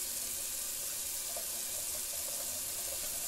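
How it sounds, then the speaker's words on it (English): Tap water runs steadily from a bathroom faucet as alum is rinsed off a freshly shaved face, a constant close hiss with faint splashing and no talking. "let's rinse off this alum"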